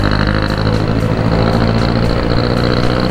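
A noisy jeep engine rumbles close by on a street, a loud, continuous low mechanical drone with a slight pulsing throb throughout, with no voices heard.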